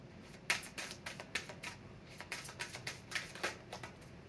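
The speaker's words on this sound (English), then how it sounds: "I think it's too many, so let's give it another shuffle." Quick, crisp flicking and riffling of tarot cards being shuffled in irregular bursts, close by and fairly quiet, with no talking.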